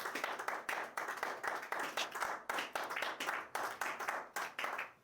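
A church congregation claps steadily in rhythm during a worship service, close and lively, with a steady beat of hand claps that runs the whole way through and no clear talk over it.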